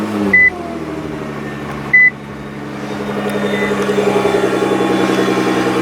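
A Nissan GT-R engine fitted with a new aftermarket exhaust part idles steadily, a low even drone that swells slightly toward the end, with two short electronic beeps near the start.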